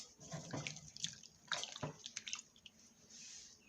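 Running tap water splashes as groceries are rinsed, with irregular quiet drips and splashing bursts close by in a kitchen sink.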